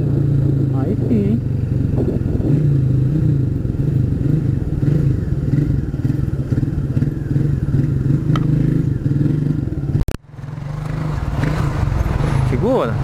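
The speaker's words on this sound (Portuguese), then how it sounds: "Você não tá acostumada com a moto?" Motorcycle ridden past a street market, its engine a loud steady drone with shifting pitch, a sharp clunk near the end, with people talking over the ride.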